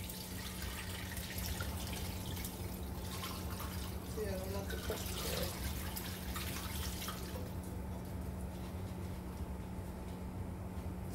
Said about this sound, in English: What I'm going to do now is just strain it onto the pork.